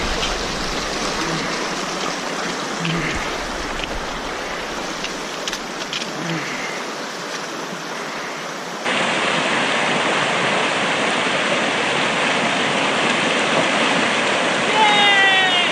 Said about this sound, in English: This isn't a river, it's just a creek